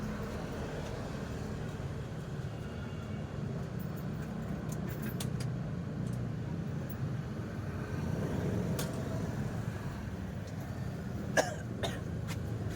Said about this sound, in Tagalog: Kung wala ko ng tubig, inuubo ko.